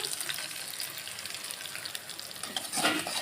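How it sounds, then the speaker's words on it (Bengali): Salted spice masala with a splash of water fries in oil, hissing steadily and close up. Stirring strokes rise briefly near the end and no one speaks. "মশলাটা ভালো করে কষে নেব"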